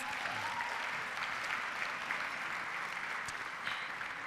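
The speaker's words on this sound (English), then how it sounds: "So another round of applause for Mayor Adams." Gala audience applauding Mayor Adams at a STRIVE fundraising dinner, a steady wash of clapping from a large room heard at moderate distance, continuous for the whole stretch.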